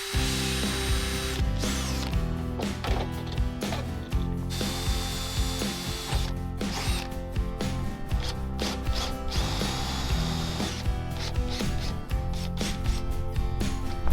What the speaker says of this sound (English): I'll go ahead and drill that hole.